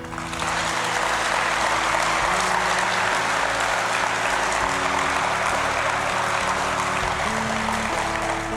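An audience claps for Dr. Bill Bennett after his speech, a dense and continuous wash of applause that holds steady and loud throughout, over a faint low hum.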